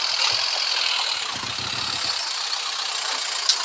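A car engine idling with a low, steady rumble and slight rattle, fairly close, alone with no voices.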